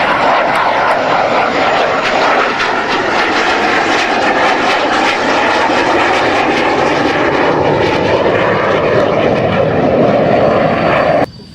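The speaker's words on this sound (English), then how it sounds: "here's a very, very famous Canberra for you right now with the display" English Electric Canberra jet performing a flying display at RAF Marham, a loud, sustained, roaring engine wash that stays steady and close throughout before cutting off abruptly at the end.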